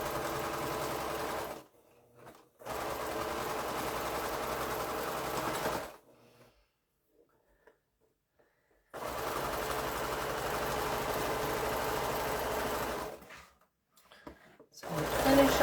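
A sewing machine stitches quilt blocks in long, steady whirring runs at close range, stopping twice for short pauses and once for a longer silence before starting up again, with no voices over it.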